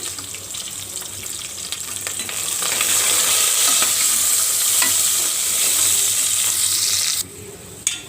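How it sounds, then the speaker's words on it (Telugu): Curry leaves, garlic and dried red chillies fry in hot oil for a traditional horse gram soup, giving a steady, close sizzle that swells louder partway through and then drops off near the end. "కొంచెం కరివేపాకు కొద్దిగా వెల్లుల్లి ఎండుమిరపకాయలు వేసి వేయించుకోవాలి"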